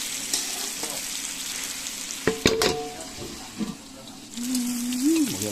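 Meat and potatoes cooking in a covered pot give off a soft, steady sizzle and bubbling. A clatter of the lid or utensils lands midway, and a brief tone rises near the end.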